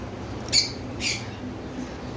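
Pet cockatiels and budgerigars kept for sale give two short, sharp squawks about half a second apart. The calls are faint against a steady background hum.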